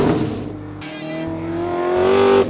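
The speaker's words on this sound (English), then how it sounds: "You just step on the throttle and light up the tyres" A 1960s Ford Mustang historic race car revs hard at Winton Motor Raceway in Australia, a loud close engine note rising steadily in pitch before cutting off abruptly.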